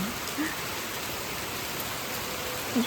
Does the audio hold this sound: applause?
no